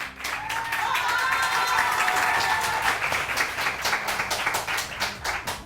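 A studio audience on a Pakistani morning TV show claps loudly and continuously, dense applause with a few cheers near the start that slowly thins toward the end.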